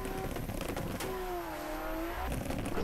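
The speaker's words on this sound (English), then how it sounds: "Massive jump drift." A Toyota Supra with a wide body kit drifts in a racing video game, its engine whining and sweeping up and down in pitch as it slides through a jump, heard fairly faint and continuous.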